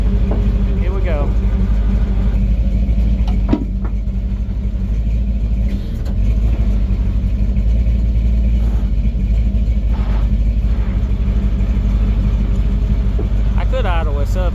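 A truck engine idles with a loud, constant low rumble while winching a Ford Maverick out of mud, with occasional clanks and voices speaking over the steady drone.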